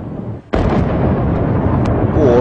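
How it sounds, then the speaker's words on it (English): Artillery cannon and rocket barrage slamming into government buildings in wartime Sarajevo, 1992: after a short lull a sudden loud blast erupts into a sustained, rumbling roar that fills the rest of the moment. "Barrages of cannon and rocket, which slammed into Sarajevo's symbols of government"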